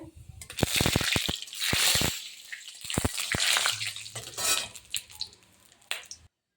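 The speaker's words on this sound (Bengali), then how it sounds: "আমি তেলে সর্ষে ফোড়ন দেব।" Mustard seeds in hot oil sizzle and crackle in a pan, with sharp metallic clinks and scraping of utensils against the pan, heard close and alone.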